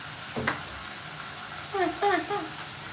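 Tomatoes sizzle in a frying pan, a steady soft hiss with a few stirring clatters, and a voice speaks over it briefly.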